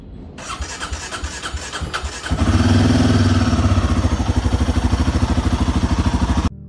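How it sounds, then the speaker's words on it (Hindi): A Royal Enfield Himalayan 450 motorcycle with a delayed-start fault cranks for about two seconds in rapid repeated starter pulses, then catches and settles into a loud, close, steady idle. "मैं सेल्फ मार रहा हूँ लेकिन वो 2 या 3 बार क्रैंक ले रहा है, उसके बाद जाके गाड़ी स्टार्ट हो रहा है।"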